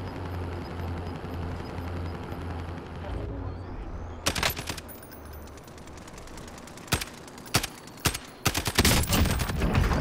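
Bursts of gunfire crack sharply through a Modern Warfare Warzone battle royale match, with a low helicopter rumble underneath. Several separate volleys come at irregular intervals, some close and loud, while players talk.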